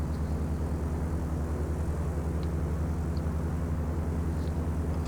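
A light aircraft in Dovetail Flight School accelerates down a high-altitude airport runway, its engine holding a steady droning hum with a low, throbbing propeller beat, moderately loud and constant.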